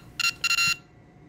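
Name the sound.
electronic tones probed from a homemade Pong circuit board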